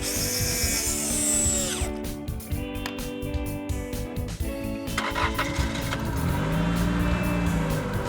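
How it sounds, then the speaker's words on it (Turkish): A cartoon car engine starts up after a repair, turning over and running with mechanical clatter and revving over a busy, layered background that continues for several seconds. "Motor çalışıyor."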